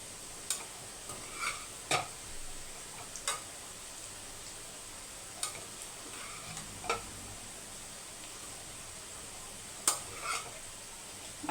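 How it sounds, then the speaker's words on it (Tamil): Cooked rice being mixed in a pan with chopped coriander and curry leaves, a soft continuous stirring hiss punctuated by scattered light scrapes and taps of a spoon against the pan. "இப்போ இதை மிக்ஸ் பண்ணிக்கலாம்"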